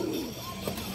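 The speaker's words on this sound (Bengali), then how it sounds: "এই দেখেন একদম ইউনিক একটা নর কবুতর" A lone male pigeon, an unusual colored bird, gives a short low coo up close, faint and brief against a quiet hiss.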